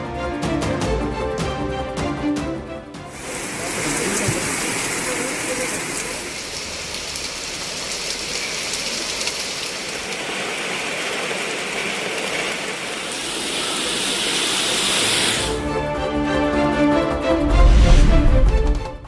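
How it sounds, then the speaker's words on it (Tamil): Heavy monsoon rain pours down on roads in Ooty, a loud, steady roar of falling water and gushing runoff lasting most of the stretch, with no voices over it. "உதகை மற்றும் சுற்றுவட்டார பகுதிகளில் கொட்டிய கனமழை. சாலைகளில் பெருக்கெடுத்த மழை நீர்."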